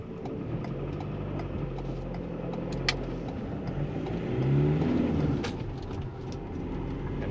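A wide van driving along a road in Wales, its engine a steady mid-range hum with a brief swell of revving midway, heard from inside the cabin with no talking.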